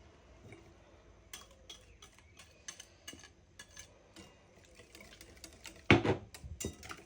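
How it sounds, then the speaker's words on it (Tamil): Eggs and Nestomalt are beaten together in a dish for a creamy pudding dessert, giving faint, irregular light clicks and taps against a quiet background, with a louder clatter near the end. "நெஸ்டமோல்ட்டையும் விட்டு நல்லா அடிப்போம்."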